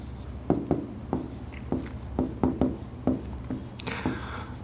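Marker or pen writing out an abbreviation's full form on a board during a biology class, a run of close, rhythmic strokes and taps at a steady pace, with no talking.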